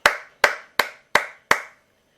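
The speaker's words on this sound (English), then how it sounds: "Did you hear me clapping?" Five sharp hand claps at an even, steady rhythm, close and crisp, each decaying quickly into silence.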